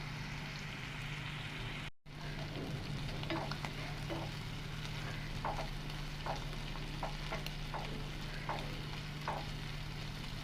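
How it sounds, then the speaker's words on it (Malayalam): Prawns frying in a pan, a steady low sizzle with scattered crackles and pops, faint and continuous with no talking. "അപ്പോൾ ഇതൊന്ന് നമുക്കൊന്ന് ഫ്രൈ ചെയ്തെടുക്കാം"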